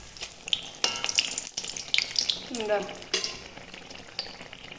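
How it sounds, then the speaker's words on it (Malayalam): Appam fries in coconut oil with a lively, close sizzle, broken by scraping stirs and the splash of oil ladled over the top. A voice briefly speaks over the frying. "അപ്പം ഈ ഓയിൽ ഇങ്ങനെ തെക്കി ഒഴിക്കാം കേട്ടോ അതിൻ്റെ മേലേക്ക്,"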